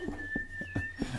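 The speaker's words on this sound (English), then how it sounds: "that's a pretty lousy whistling." A thin, steady whistled tone holds nearly level, faint, over a few soft thumps and rustles.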